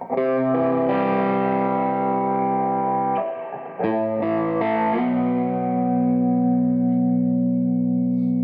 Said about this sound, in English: this is my overdrive of choice. Cleans up really nicely with the volume.